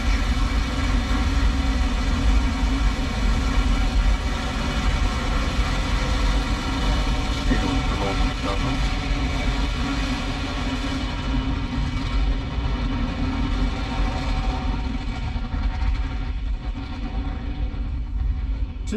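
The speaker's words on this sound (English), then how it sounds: "Falcon 9 with the Crew Dragon capsule is heading east from pad 39A." Falcon 9 rocket carrying a Crew Dragon capsule lifting off from pad 39A for an in-flight abort test, heard from inside a Tesla Model 3 as a steady, heavy, continuous low rumble that holds loud throughout.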